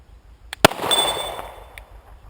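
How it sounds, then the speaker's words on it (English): A Staccato C DUO pistol firing Federal 147 ammunition, with a slight hang fire: a single sharp, loud report followed by a decaying echo, a faint click before and a small clink after. "I noticed a slight hang fire."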